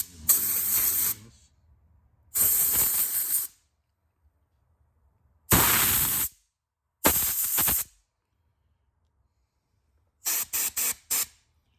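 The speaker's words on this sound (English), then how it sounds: "Let's blow this out." Compressed air blasts out the dirty parts of a CF Moto Moose Tracker ATV that sat for three years: four loud hissing bursts with pauses between them, then a quick string of short puffs, with no talking.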